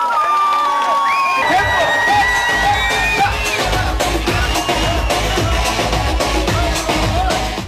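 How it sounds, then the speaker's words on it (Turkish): A concert crowd roars loudly, with whoops, yells and high whistles, then settles into brisk rhythmic clapping that carries on under the cheering to the end. "Şöyle bir alkışlayalım kendilerini"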